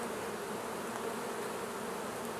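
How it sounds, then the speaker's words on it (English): Honey bees swarm in the air around a hive, a dense continuous buzzing drone that is steady and close throughout. "that was making a larger, larger amount of bees here in the air"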